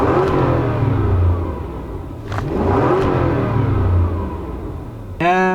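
Lexus LS400 V8 engine revving hard at full throttle, a loud, close, sustained roar that rises and falls through two long pulls before cutting to a brief higher whine at the end.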